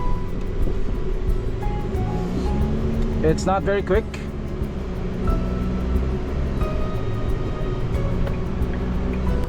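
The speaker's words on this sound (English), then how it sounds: "diesel clatter coming into the cabin" Inside the cabin of an MG TRQ diesel pickup, a steady low engine drone and road rumble run throughout, with someone speaking briefly over the hum midway.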